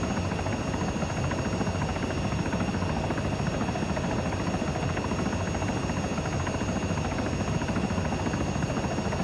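A helicopter in ArmA 3 with its advanced flight model hovers in a steady, dense rotor and engine drone, loud and unchanging throughout with a faint high whine, and no one talking.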